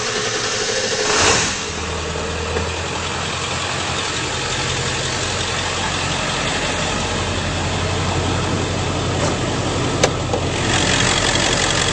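A 7.3L diesel engine in a 2001 Ford F-250 Super Duty crew cab 4WD idles with a steady, low, continuous rumble that stays even and close throughout, with a brief surge early on.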